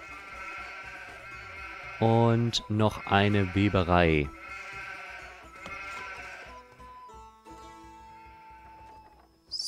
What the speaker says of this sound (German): Noch mehr Schafe.